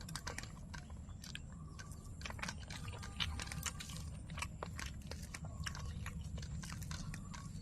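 Close, wet chewing and biting on a lentil fritter soaked soft in a hot curry of Malabar spinach and red lentils, with frequent crunchy bites from peanuts, a steady rhythm of mouth sounds and no talking.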